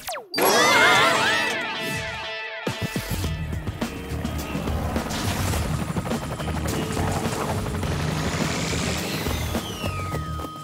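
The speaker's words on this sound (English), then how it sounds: "I'll send the chopper" Cartoon helicopter flying, a busy whirring rotor effect that runs loud and continuous under layered animated sound effects and music.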